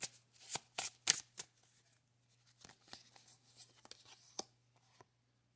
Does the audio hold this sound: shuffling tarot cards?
yes